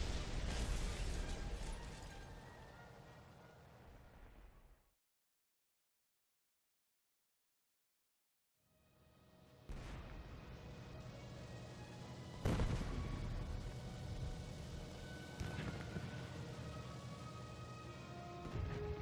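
Bombs dropping and exploding in the War Thunder combat game, loud dense booms with sharp impacts, cut by a few seconds of silence before a second burst of blasts and rumbling.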